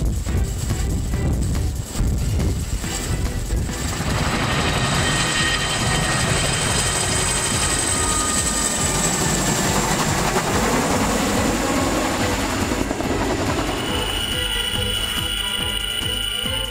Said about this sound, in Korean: 이제 출입문이 서서히 닫히고 교육생들을 태운 헬기가 드디어 이륙합니다.